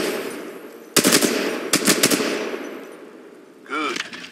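Weapon fire in the video game Titanfall 2, two loud bursts of rapid automatic shots, the second a quick double burst, over a steady ambient hum with no talk.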